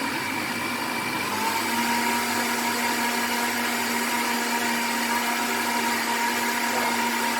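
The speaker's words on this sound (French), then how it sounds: "Donc là je vais mixer ça allez, 1 minute, et puis ça sera bon." A blender whirs steadily as it purees a nutritious smoothie, a loud close motor drone whose pitch settles after a moment, with no talk.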